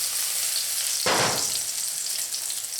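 Garlic dropped into hot sesame oil for a stir fry: a continuous close sizzle with a sudden louder crackling burst about a second in as it hits the oil, then settling back to steady frying.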